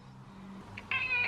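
A single short cat meow rises near the end, close and clear, after a quiet low hum.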